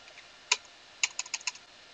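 Typing on a computer keyboard in a quiet room: one sharp keystroke, a pause, then a quick run of five or six clicks, close and fairly soft.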